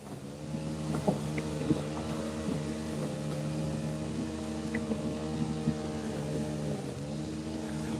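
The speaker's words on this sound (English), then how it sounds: "Trolling motor's getting caught up in these weeds, so I'm gonna have to move out a little bit." An electric trolling motor drives a fishing boat through weeds on Pymatuning Lake, Pennsylvania, giving a steady, close mechanical hum with faint wind and water noise.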